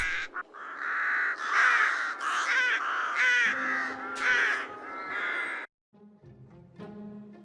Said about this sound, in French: tous ces oiseaux là qui sont en train de voler au-dessus de la maison?